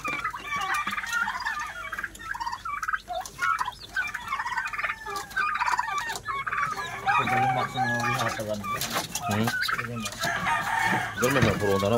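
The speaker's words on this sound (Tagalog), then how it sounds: "isang pabo at saka 4 na manok" A turkey and four chickens, including a mother hen, cluck, gobble and crow in a busy farmyard chorus of overlapping calls, fairly close and loud, with occasional voices in the background.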